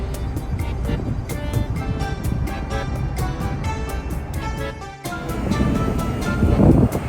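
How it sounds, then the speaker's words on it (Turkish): Strong, steady wind roars across the open deck of a ferry between Greece and Italy, a constant blustery rush with low rumbling gusts that swell louder toward the end. "Aşırı sert rüzgar var."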